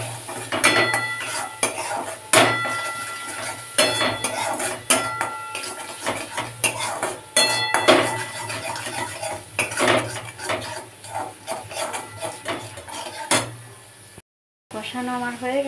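Metal spoon stirring turmeric, chilli powder and salt into a fish roe masala in a pan, with repeated clinks and scrapes against the pan, a faint sizzle beneath and occasional talk.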